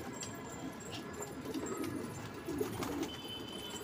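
Young Hyderabadi pigeons coo softly in low, rolling bursts against a steady, noisy background of rustling and faint chirps.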